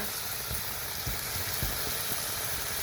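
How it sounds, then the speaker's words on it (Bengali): Steady soft sizzle of a spice paste with chilli, turmeric, cumin and salt frying in a pan, close and continuous, with no talking. "জিরা বাটা লবণ ভালোভাবে কষিয়ে নেই মশলাটা"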